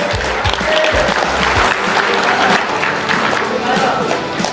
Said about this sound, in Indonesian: Minta tepuk tangannya dong